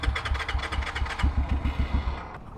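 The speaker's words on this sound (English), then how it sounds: "electronic fuel injection on this one just makes it purr to life instantly." A Kayo K6-EFI 250 fuel-injected dirt bike engine fires up and quickly settles into a steady, throbbing idle, loud and close with no talking.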